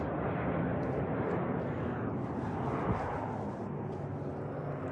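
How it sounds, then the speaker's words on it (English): A big airplane passes overhead, a broad steady roar that swells slightly and stays loud throughout, with no one talking. "Hold on, I'm going to let this plane go over me."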